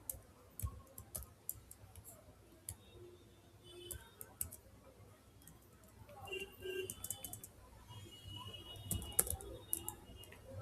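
Code being typed on a computer keyboard, with faint, irregular bursts of key clicks and taps at close range, quiet overall and without any talking.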